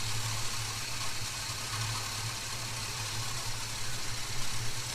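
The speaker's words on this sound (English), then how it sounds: "I like a nice slow idle. About 500 RPM I like." A Holden HK Premier wagon engine idles slowly at around 500 RPM, a low steady rumble with faint even pulsing beneath a broad hiss, fairly quiet and unchanging.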